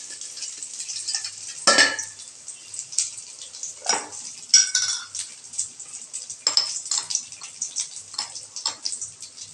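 Cashew nuts frying in a pan for a one-pot meal, with scattered clinks and scrapes of a spoon stirring against metal over a soft background hiss, close and moderately loud, no talking.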